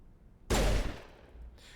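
A single sharp, loud gunshot in the video game Mass Effect, with a short decaying tail and a faint follow-up sound.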